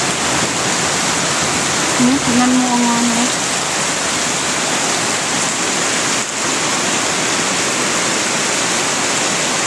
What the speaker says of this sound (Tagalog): malakas na ang ulan dito guys